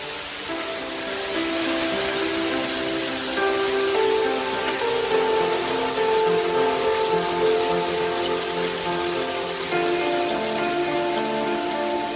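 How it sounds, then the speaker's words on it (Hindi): Steady rain effect for a stage play performed by a Shimla theatre troupe, a dense continuous hiss of falling rain heard outside, even and fairly loud throughout with no talking. "बाहर बारिश हो रही है"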